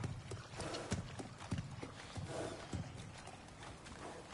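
Horse hooves clip-clopping in the video game God of War Ragnarok, a steady, moderately close series of hoof strikes at a walking pace, fairly quiet, with no talk.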